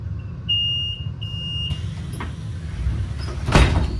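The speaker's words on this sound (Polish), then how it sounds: "Tak wygląda otwieranie i zamykanie drzwi" An electric Solaris Urbino 12 Electric IV bus door mechanism beeps with a steady warning tone, then a pneumatic hiss and a thud as the doors open and close, over low engine rumble.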